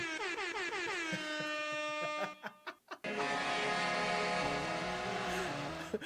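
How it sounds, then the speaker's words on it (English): A loud, blaring rap-style air horn sound effect sounds in long sustained blasts, broken by a few short choppy bursts midway before the horn blares on again. "Was the rap air horn on purpose"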